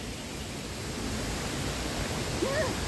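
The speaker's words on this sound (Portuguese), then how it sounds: "Ai, barulho d'água." Running water near the Grotte de Clamouse cave in southern France makes a steady, broad, rushing hiss that holds at an even, fairly loud level throughout, with a faint brief tonal sound near the end.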